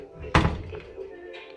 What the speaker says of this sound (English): And then I lock the door.